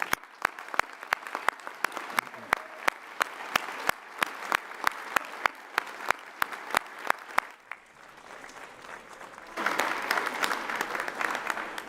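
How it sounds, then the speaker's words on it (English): An audience claps at an adult and family education commencement ceremony, sharp distinct claps in a quick regular rhythm that later give way to a denser, fuller wash of applause. "let's do that for a minute with a big round of applause"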